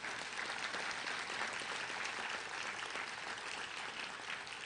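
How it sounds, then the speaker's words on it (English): Sustained applause from a commencement audience honoring health sciences university graduates, a dense, even wash of clapping that carries steadily from start to finish at moderate distance. "So a wonderful round of applause for our graduates"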